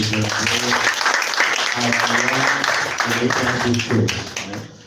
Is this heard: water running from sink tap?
no